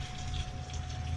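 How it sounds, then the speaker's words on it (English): Brining solution poured into a bag over a pork tenderloin, a short, steady gushing flow of liquid heard close up with no voices. "And then we're going to pour in brining solution"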